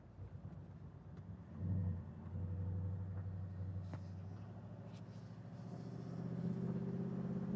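A 1968 Oldsmobile 442 convertible drives along, its engine a low, steady rumble that swells briefly and climbs again near the end, with no talking.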